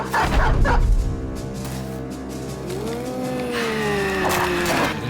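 A dog barks and yelps in the Battle Brothers video game, a burst of close barks at the start followed by a drawn-out whimpering whine over a low droning background, with no talking.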